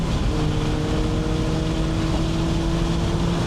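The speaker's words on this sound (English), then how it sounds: "And speaking of Miatas, there's one now. Watch how fast that pulls away." A Mazda Miata with a turbocharged K24 engine accelerates hard, its steady engine drone with sustained harmonic tones holding loud and continuous throughout, no voices over it.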